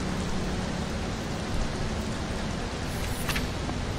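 Steady rain falling in a desert in the survival game Mr. Prepper, a dense, even hiss that holds at the same level throughout with no talk.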